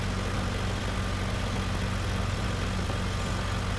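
A Swaraj tractor runs in a field while cultivating with a new disc harrow, belching heavy smoke. Its engine makes a steady, unbroken low rumbling drone close by, with a constant mechanical hum throughout.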